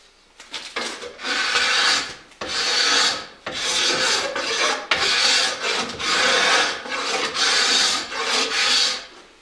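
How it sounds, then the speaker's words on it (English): Repeated rasping scrapes of a tool drawn along a wooden longbow limb during tillering, loud and close in steady strokes of about a second each with brief pauses between them. "So we're going to concentrate our scraping down in this area."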